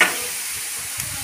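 Food fries in a large wok over a big wood fire at a Vaishnav rice-feeding ceremony, with a steady loud sizzle and hiss and a brief scrape of a stirring spatula.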